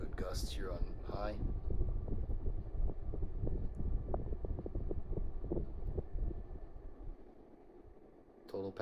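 A Moss Heirloom ceiling fan spins on its high setting, giving a steady airy whoosh and low rumble through the middle, with a voice talking at the start and again briefly at the end.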